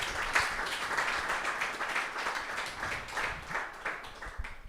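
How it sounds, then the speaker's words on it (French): At a public panel on gender parity in illustration, the audience applauds the guests with moderate, rippling clapping from a modest crowd that swells and eases in waves over several seconds. "on peut déjà les applaudir"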